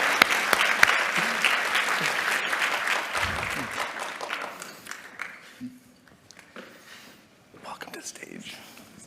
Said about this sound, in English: Let's test that round of applause